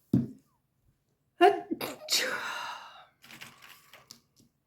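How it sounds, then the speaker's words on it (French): Several sharp sneezes burst out close by, the first short and alone, then a louder pair followed by a breathy gasp, with soft handling and rustling noises trailing off at the end. "est-ce que ça m'énerve d'éternuer comme ça"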